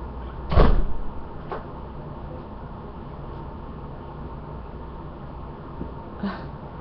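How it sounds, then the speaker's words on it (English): A door is shut with one loud thud, followed by fainter clicks of a lock and a later small knock, indoors over a steady background hiss. "I'm going to get up and close this door."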